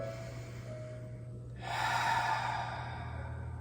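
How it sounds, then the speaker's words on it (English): A slow, deep abdominal inhale during a standing breathing practice, a single airy rush of breath that swells and then fades over a steady low background hum. "let's just try a few deep abdominal breaths here. Just inhale."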